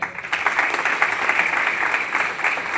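A crowd at a road-safety programme applauds in a dense, continuous wash of clapping that holds at an even level for a few seconds.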